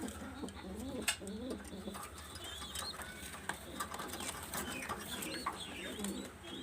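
Red pigeons coo softly in a loft, low repeated throaty rolling calls overlapping at close range, with faint higher chirps and a little background noise but no speech.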